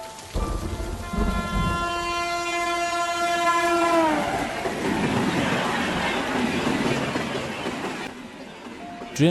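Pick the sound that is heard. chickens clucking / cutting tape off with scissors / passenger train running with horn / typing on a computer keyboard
passenger train running with horn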